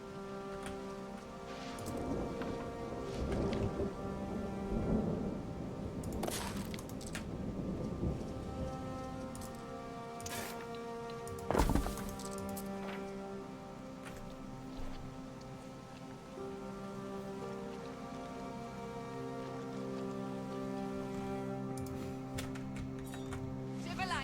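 Steady rainfall patters continuously in the video game Anno 117: Pax Romana, with a sharp crack of thunder about halfway through and a rumbling undertone.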